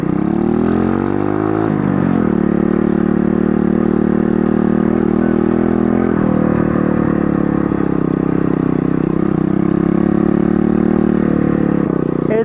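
A mini moto pit bike engine buzzes continuously while being ridden through a neighborhood, with a close, raspy drone that rises in pitch as it revs and holds steady, and no talking.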